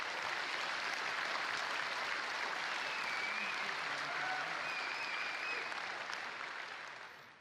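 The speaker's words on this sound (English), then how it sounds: "Now you applaud for these guys that build Carbon REST." An audience at a presentation applauds steadily for the team that built Carbon REST, dense clapping sustained throughout before fading at the end, with faint voices underneath.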